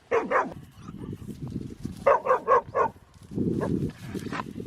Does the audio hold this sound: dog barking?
yes